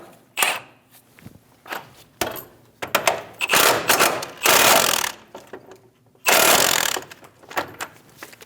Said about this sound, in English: Snug the nut down.